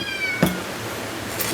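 A cat meows once, a short close call rising briefly out of quiet room tone, followed by faint background noise.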